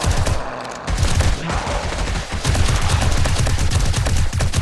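Rapid gunfire in the zombie survival game 7 Days to Die, dense loud automatic bursts firing almost continuously at close range with only short breaks.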